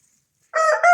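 Aggressive fighting rooster crowing loudly and close, a single strong crow that starts abruptly after a moment of silence and runs on without any talk.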